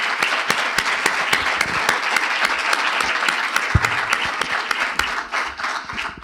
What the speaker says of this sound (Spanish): les pido un aplauso, un fuerte aplauso para nuestros expositores del segundo bloque